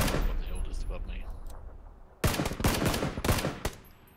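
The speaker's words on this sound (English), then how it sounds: "I'm shooting right at him" Rapid gunfire in the video game PUBG: after a noisy stretch, a burst of loud, closely spaced shots rings out in quick succession, with a few more cracks trailing behind.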